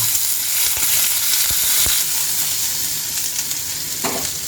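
Whole onions fry gently in oil with spices, giving a steady close sizzle with a few sharp pops and crackles scattered through it, and no talking.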